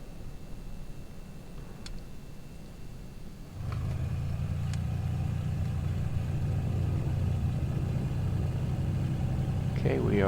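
Twin piston engines of a Black Square Baron 58P in Microsoft Flight Simulator start up, a quiet hum giving way to a steady, loud low rumble at idle that holds for several seconds.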